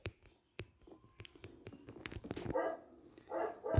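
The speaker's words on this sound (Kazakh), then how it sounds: "Майнкрафтта ит бар ма еді?" A dog barks in the Minecraft video game, quiet and close, with a few short barks and yips toward the end. Soft clicks and faint whispery sounds come before them.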